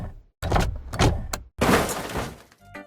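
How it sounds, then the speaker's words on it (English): An unused car window sound effect from the Poppy Playtime video game: a motorized power window whirring in bursts, two short runs followed by a longer one, close and loud with no talk. "there are also various unused sound effects related to cars, such as car windows opening and closing,"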